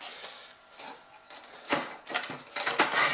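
The cardboard box of a Noctua NH-U12P SE2 CPU cooler is opened, giving scattered rustles, taps and scraping clicks that grow louder toward the end.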